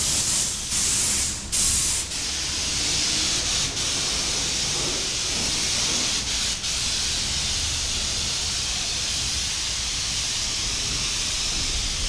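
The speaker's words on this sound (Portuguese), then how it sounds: "Ele jogando verniz, beleza?" Protective varnish sprays onto a motorcycle with a steady hiss for several seconds, a few brief bursts and sputters at the start before settling into an even, continuous stream.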